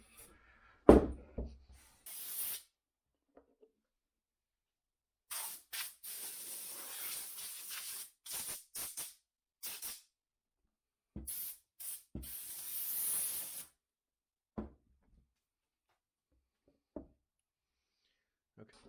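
Sealant sprayed from a can onto the bottom of an RV door during a restoration repair: a short hiss, then several spray bursts of varying length separated by pauses, close and fairly loud, with a few clicks in between.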